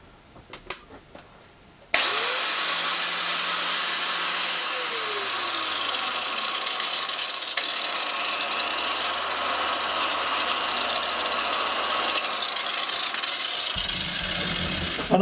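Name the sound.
Ferrex corded angle grinder running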